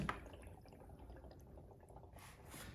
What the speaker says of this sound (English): you can hear the bubbles are nice and happy going into the beer